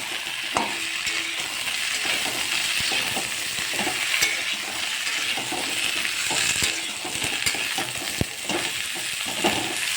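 Thinly cut potatoes and vegetable stalks fry in a pan with a constant sizzle, overlaid by scraping stirs and occasional clinks of a utensil against the pan.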